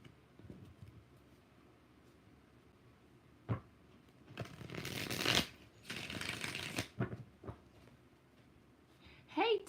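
A tarot deck is shuffled three times, loud riffling bursts standing out near and clear against a quiet room, with a faint voice murmuring in the background.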